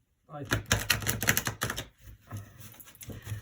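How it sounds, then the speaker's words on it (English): Tarot cards get a quick riffle shuffle, giving a dense burst of rapid, crisp clicking and fluttering for over a second, then settling into softer, scattered card rustles close by. "Let's give it a quick riffle shuffle."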